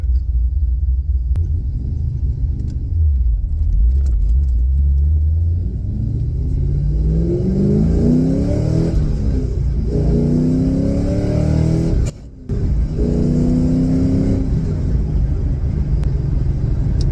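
A 1990s Chevrolet Corvette with an LS1 V8 and a manual shifter accelerates hard, its engine revving up through several rising sweeps with brief shift gaps, loud and close with a deep rumble underneath.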